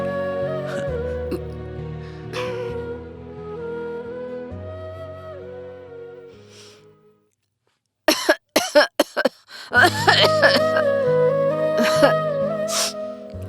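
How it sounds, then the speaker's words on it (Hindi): Soft music plays, then falls silent before a woman breaks into a burst of sharp, repeated coughs, followed by more coughing over returning music. "तुम्हारी खांसी अभी तक ठीक नहीं हुई है ना?"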